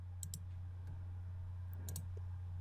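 A computer mouse button gives a few faint, crisp clicks in quick pairs, set against a steady low electrical hum in a quiet room.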